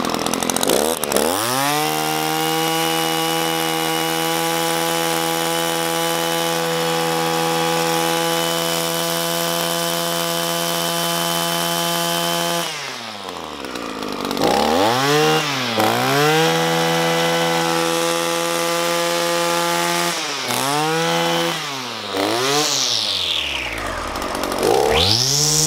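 An Echo SRM-280T string trimmer's small two-stroke engine idles steadily after a warm start, then is blipped several times into rising and falling high-pitched revs, loud and close, with no talk.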